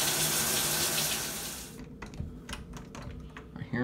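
Shower water running from a tap in a bathroom, a loud steady hiss that cuts off partway through and is followed by scattered faint knocks and clicks.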